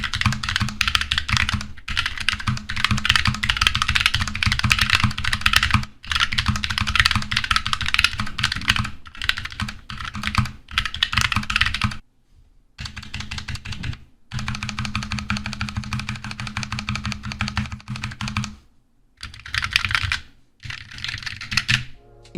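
Typing on a FNATIC Streak65 LP low-profile 65% gaming keyboard with PBT keycaps, a dense, fast clatter of close keystrokes in long bursts broken by brief pauses.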